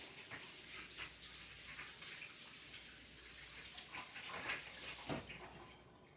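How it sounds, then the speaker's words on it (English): Running water from a kitchen tap while hands are washed under it, a steady soft splashing rush with faint rubbing and splatter shifts, fairly quiet and continuous, with no voices. "I wash my hands before I touch anything else."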